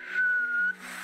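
An attempted whistle, a thin steady tone held for about half a second, then breaking off, with breathy noise around it.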